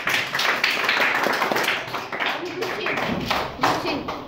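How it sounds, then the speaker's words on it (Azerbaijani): An audience claps loudly in dense, sustained applause at a 2022 geography word-game competition, with voices mixed into the clapping. "Ucadan alqışlayırıq."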